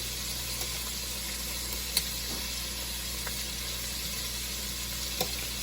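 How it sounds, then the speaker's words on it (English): Shrimp sizzle steadily in a hot pan while cooking for jambalaya, a constant broad hiss of frying with a couple of faint clinks as they are turned, close and unvoiced. "As you see, the shrimp are cooking up."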